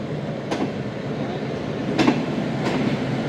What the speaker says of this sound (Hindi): 6:50 पर 200 ट्रेन रवाना हो रही है साहिवाल से।